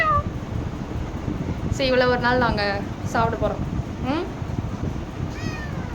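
A cat meows several times in a home, a few bright rising-and-falling cries close by over steady background noise. A person talks through most of it.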